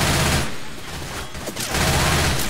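Rapid gunfire from Left 4 Dead 2, a zombie-shooter game, rattles as dense, loud bursts. The shooting drops briefly in the middle, then a steady volley resumes.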